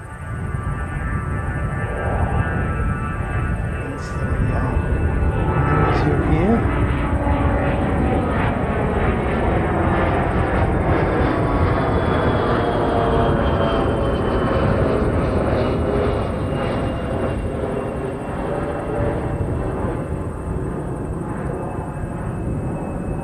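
A private jet takes off at an airport, its engines building into a loud, sustained roar that sweeps slowly in pitch as it passes, holding steady before easing slightly at the end.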